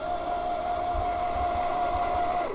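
A sewing machine winding a bobbin with the presser foot up, a steady loud motor whine held close for the whole stretch before it slows and stops right at the end, with no talk.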